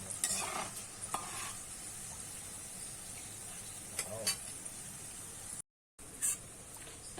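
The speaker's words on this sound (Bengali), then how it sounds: "আর কিছুটা শুকনো লঙ্কা একটু কিন্তু আমি নাড়িয়ে চালিয়ে নেব" Dried red chillies fry and get stirred in hot oil for a raw mango pickle, with a steady soft sizzle and repeated scraping stirs from a spoon in the pan, close and fairly quiet, briefly cutting out near the end.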